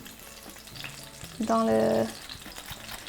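Smelt fish fry in hot oil as a sizzling burst swells for about half a second and then cuts off. A few words are spoken in French over the low background.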